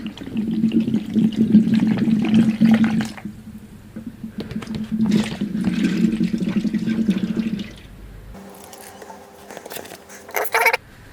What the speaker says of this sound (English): releasing a lot of water.